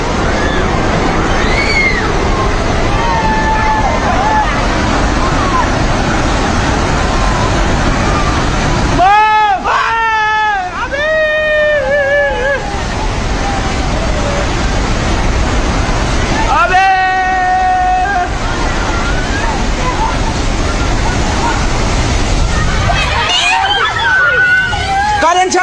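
A flash flood surges toward a village in Nepal, a constant loud roar of rushing water under excited voices and siren-like wailing tones that rise and fall in the middle.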